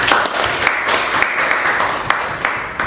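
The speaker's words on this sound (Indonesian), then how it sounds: "Aplaus untuk kita semua." A classroom of students claps together in steady, dense applause, a continuous patter of many hands sustained without a break.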